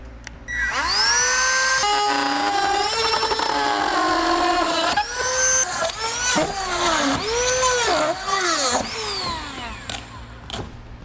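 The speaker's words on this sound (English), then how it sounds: "I'm going to use a rotary tool to do this." A rotary tool trims a styrofoam block during a base plate install on a 2017 Chevrolet Equinox, giving a loud, close, high-pitched whine whose pitch repeatedly dips and recovers as the bit bites into the foam, running almost continuously.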